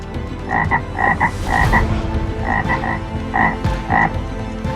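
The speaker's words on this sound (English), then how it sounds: "Next, frogs covered the land, invading every home, every palace." Repeated frog croaks in short clustered bursts, loud and close, over a busy animated backdrop of a plague of frogs swarming the land, homes and palaces in a Bible story.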